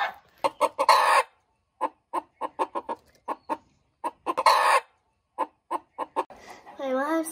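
A wild rooster caught in a homemade trap clucks in bursts of sharp, close calls separated by pauses, with a voice speaking briefly near the end.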